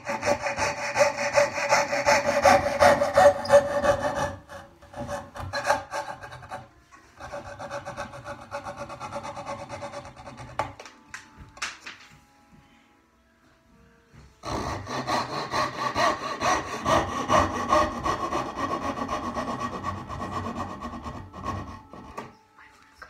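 Hand saw cutting the width of wooden apron tenons held in a vise, with steady back-and-forth rasping strokes that run loud and close, pause briefly, then resume for a second long stretch of sawing.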